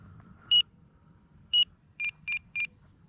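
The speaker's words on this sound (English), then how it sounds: "Timer telling me it's time to quit." A countdown timer at an RC flying session beeps five times, two spaced single chirps followed by three quicker beeps, bright and clear over low steady background rumble.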